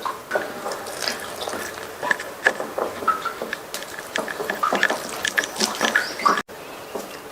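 Water added bit by bit to flour while hand-kneading a loose dough in a kitchen, heard as trickling and patter from a tap with soft splashes and squishy handling noises, close up, with no talking.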